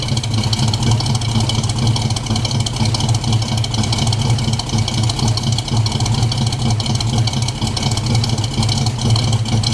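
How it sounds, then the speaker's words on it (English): A Ford Mustang engine idling steadily close by while warming up, a constant low rumble with a faint rapid ticking, unbroken throughout and with no speech. "It's idling on its own now."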